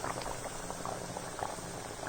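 Hot water bubbles in a pot for chicken pulao, a faint, steady seething with small popping bubbles, no voices.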